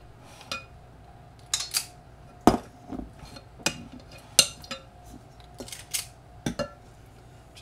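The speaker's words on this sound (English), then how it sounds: "Just toss them around a little bit till they get covered." Cheese fritter balls scooped with a small ice cream scoop are tossed in a bowl of flour, heard as a scattered series of sharp, close clinks and light taps at an uneven rhythm with quiet gaps between them.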